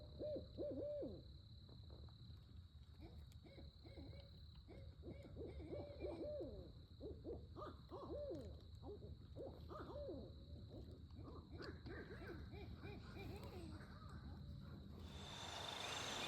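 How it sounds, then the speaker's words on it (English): Owls hooting repeatedly nearby in the quiet before daylight on a spring turkey hunt, deep rhythmic calls overlapping, with faint birdsong in the background. "these owls will get you going, get your blood pumping"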